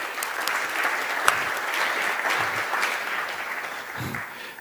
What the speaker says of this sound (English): Let's all give a bit of applause.